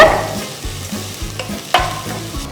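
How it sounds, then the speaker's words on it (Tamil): Green chillies and curry leaves stirred in hot oil for a tomato side dish, loud close sizzling with rhythmic spoon scrapes against the pan, alone. "இதோட கொஞ்சம் கருவேப்பிலை ஸோ போட்டு ஜஸ்ட் ஒரு தடவை நல்லா மிக்ஸ் பண்ணிவிடுங்க"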